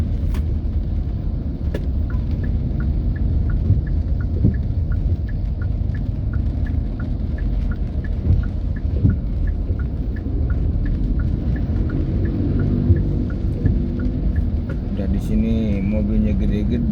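Heavy road traffic crawling through a long jam on a rainy morning, with cars and big vehicles idling and rumbling steadily close by, a constant low engine drone throughout.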